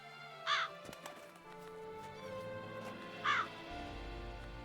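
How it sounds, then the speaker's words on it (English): Crows in The Witcher 3: Wild Hunt give two separate caws a few seconds apart over a steady, low game ambience. "aren't those just crows that Regis speaks to?"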